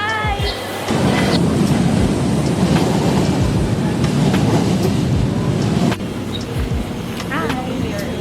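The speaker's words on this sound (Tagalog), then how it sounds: "Hi, we're here sa LRT." A light rail transit train rolls along with a loud steady rumble and rush of wheels on track, heard from inside the carriage, with people chatting and a brief drop in the noise near the end.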